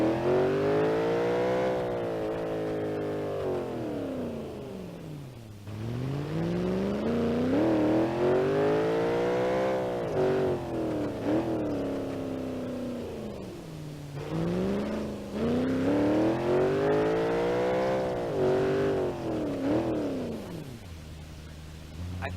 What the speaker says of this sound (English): It won't even break traction with a clutch dump.